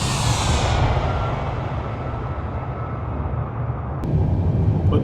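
Boeing 787 Dreamliner taking off in Microsoft Flight Simulator 2020, a loud, steady jet engine roar with broad rumble and hiss that fades slightly in the upper range, then a sharp click near the end.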